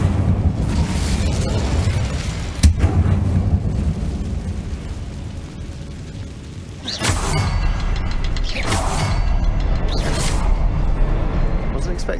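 An Incendio fire spell cast in Hogwarts Legacy, a video game, sets off booming, crackling bursts over a continuous rumble, with three sharp flares in the latter half and a voice talking underneath.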